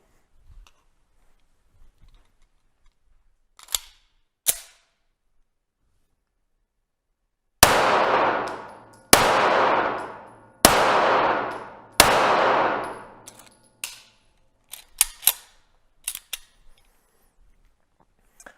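Pistol shots ring out on a shooting range with an entry-level IPSC-style handgun: a few sharp distant cracks, then four loud, closely spaced reports with ringing decay, followed by scattered quieter clangs and ticks.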